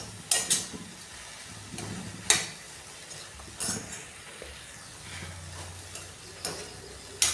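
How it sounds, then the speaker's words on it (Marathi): A spoon stirring soybean curry in a pan, with a soft sizzle underneath and several sharp scraping clinks against the metal at irregular intervals. "आता मी याला मिक्स करून घेणार आहे"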